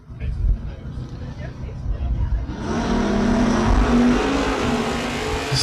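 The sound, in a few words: drag race, Firebird and Camaro accelerating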